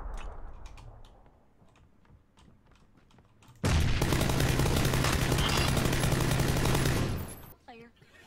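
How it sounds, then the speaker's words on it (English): Sustained automatic gunfire in PUBG erupts after several quiet seconds of faint clicks, a dense loud burst lasting about three seconds before cutting off abruptly. "I think someone's taking shots at him as well."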